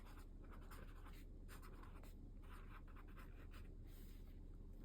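Handwriting with a pen in a journal, a faint, continuous run of soft scratchy strokes and short pen movements, quiet and close beneath a steady background hiss.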